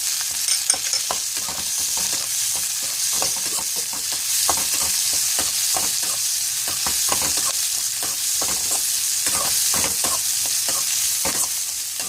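Steady sizzling of onions and turkey berries sautéing in a pan, with repeated scraping and stirring clicks from a utensil throughout.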